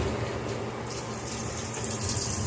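Cilantro getting a couple of rinses under running water during nacho prep, a steady close gush and splash that swells slightly louder toward the end, with no talking.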